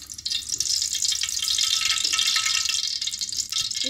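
Four tablespoons of cooking oil poured into a cooking pot, a continuous close hiss and trickle that holds steady for several seconds with no voices.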